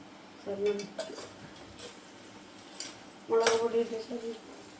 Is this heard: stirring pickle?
yes